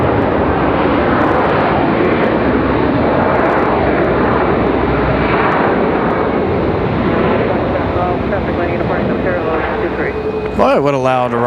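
A jet airplane arriving at Raleigh-Durham International Airport roars loudly and steadily overhead for several seconds, the engine noise filling everything, before a voice begins talking near the end.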